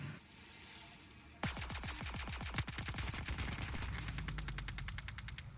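Rapid automatic weapon fire in the Star Citizen game, a long burst of evenly spaced loud shots that slows briefly then resumes at a fast rate, following a short quiet stretch of ambient hum.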